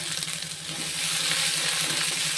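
Cashews and chopped ginger dropped into hot oil in a pan for Tamil coconut rice, a steady close sizzle that swells slightly as they fry.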